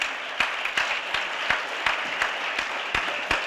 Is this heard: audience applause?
yes